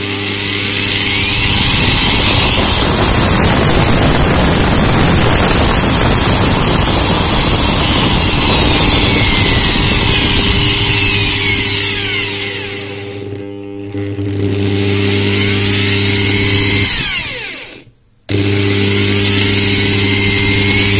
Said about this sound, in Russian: Включим болгарку.